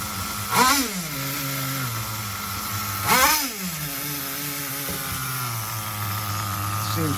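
HPI RS4 nitro RC car engine hangs at a high buzzing idle, a steady whine interrupted twice by short blips of revving that fall back to the sustained drone.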